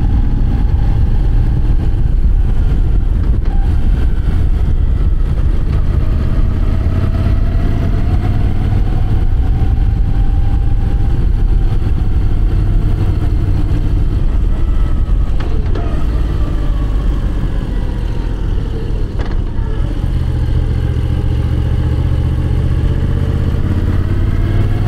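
A Moto Guzzi V9 motorcycle is ridden along mountain roads between Leschaux, the Gorges de l'Arly and the Col des Aravis, its engine droning loudly and steadily with rising and falling revs over constant wind rush.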